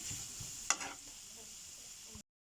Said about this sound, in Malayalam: കുരുമുളക് പൊടിയും മുളക് പൊടിയും ഇട്ടതിന് ശേഷം നല്ലവണ്ണം ഒന്ന് ഇളക്കി കൊടുക്കണം